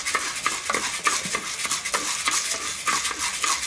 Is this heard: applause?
no